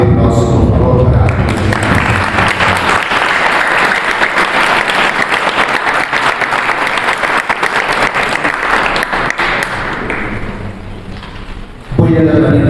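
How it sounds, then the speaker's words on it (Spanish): Loud, sustained applause fills a book-launch audience hall for a presentation on contemporary Bolivian painting. The clapping runs dense and even for about ten seconds, then tapers off, and a voice comes in at the end. "Un fuerte aplauso, por favor"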